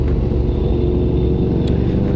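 Ducati Monster 1100 EVO motorcycle engine running, a steady, deep, loud rumble idling close by without change for a couple of seconds.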